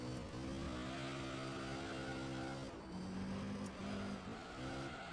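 Race cars from Gran Turismo 3: A-spec lap a track in a Pro League event, with steady engine drone and shifting harmonic pitch as cars accelerate and pass, loud and continuous with no talk.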